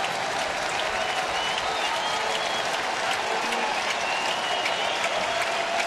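Baseball stadium crowd of about 18,886 applauding and cheering at a Texas versus Oakland game, a loud, steady wash of clapping throughout with no break.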